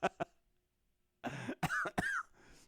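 Two sharp coughs close together, followed after a pause by a short burst of voices or throat sounds.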